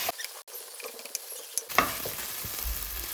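Sliced onions sautéing in a pan for an egg puff filling: near-silent at first, then from about halfway a steady broadband sizzle with stirring scrapes and soft crackles, close and moderately loud, no talking.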